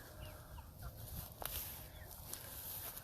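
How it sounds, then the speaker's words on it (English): A chicken clucks softly at a distance amid a dense, noisy outdoor background, with a few sharp clicks scattered throughout. "look at this chicken right here"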